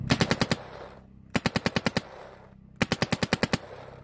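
Empire Axe paintball marker firing in three rapid bursts of about six to eight sharp, evenly spaced pops each, close and loud, with short pauses between strings.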